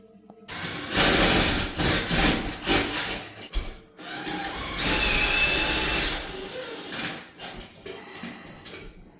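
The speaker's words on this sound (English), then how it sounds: "all 3 of the self-tapping screws are in" Powered driver sinks self-tapping screws into a ceiling can light fitting, giving rough grinding and whining bursts with metallic squeals and scraping, loud and close, separated by brief pauses.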